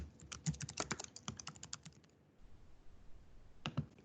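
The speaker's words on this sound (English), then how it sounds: "And then all you need to do is start typing" Rapid typing on a computer keyboard, a dense run of close, crisp key clicks that pauses briefly and then resumes with a few more strokes, with no voices.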